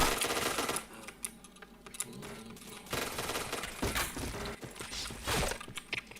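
Rapid video game gunfire in bursts of sharp cracks, loud and close, with brief pauses between volleys.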